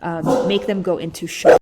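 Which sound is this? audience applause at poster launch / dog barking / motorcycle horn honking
dog barking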